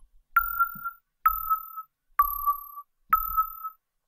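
An Absynth synthesizer patch with unison pushed to eight voices plays four evenly spaced notes, each a sharp attack settling into a thin sustained tone with a low thump beneath, no talking.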